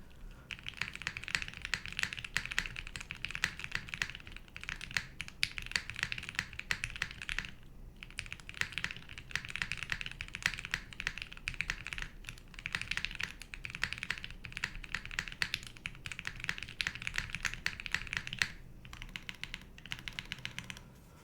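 A TGR Dolice mechanical keyboard typed on while resting on a mat gives a continuous stream of close, rapid clacks with a couple of brief pauses, and no one speaks.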